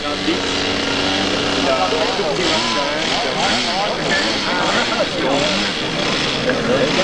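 Propeller engine drone of a Pilatus aircraft taking off and climbing at a 1981 air meeting in Yverdon, a steady broadband roar held throughout with a voice commentating over it.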